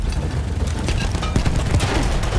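Gunfire and explosions from the video game Battlefield 1, a dense burst of booms and cracking shots overlapping in quick succession, loud and close, with no speech.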